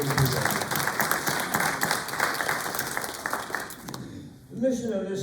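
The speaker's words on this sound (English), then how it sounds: "Let's have a nice round of applause for the many people." A room full of people at an annual meeting claps for about four seconds, then the applause fades as a voice begins speaking.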